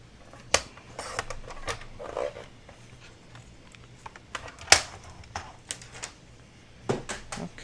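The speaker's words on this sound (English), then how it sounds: "So we're just going to use our trimmer and trim that off." A paper trimmer cuts through thick cardstock at a craft table, giving faint, scattered clicks and a soft scraping slide of the blade, with short quiet gaps between sounds.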